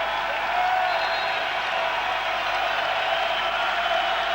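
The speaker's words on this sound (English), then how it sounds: "And listen to the crowd." A basketball crowd at an Oregon–Stanford college game roars and applauds steadily after a made free throw late in a close contest, a dense, continuous wash of cheering with no voices standing out.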